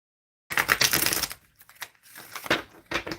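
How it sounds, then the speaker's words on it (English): Tarot cards being shuffled by hand, close and fairly quiet, in uneven bursts of riffling and sliding card noise with short pauses between them and no talking. "Shuffling for Christy."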